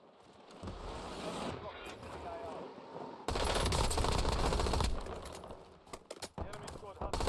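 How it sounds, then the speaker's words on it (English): Rapid bursts of gunfire from a Warzone match crackle loudly and almost continuously, with sustained automatic fire in the middle and scattered shots toward the end. "those gunshots sound a lot closer than they are."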